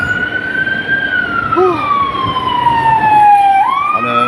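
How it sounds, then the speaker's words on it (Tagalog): An ambulance siren wails along a Dubai street, a loud sweeping tone that holds and then shifts pitch as the vehicle passes close by, with traffic rumble beneath. "May ambulansya"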